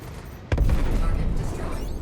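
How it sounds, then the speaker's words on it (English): In Star Citizen space combat, flares drop against an incoming missile: a sudden sharp burst followed by a sustained, heavy low rumble. "Incoming missile, so let's drop some flares."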